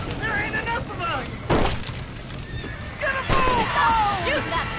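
Horses whinny repeatedly in the video game Red Dead Redemption amid chaotic background noise, with shouting voices and a couple of sharp bangs breaking through the commotion.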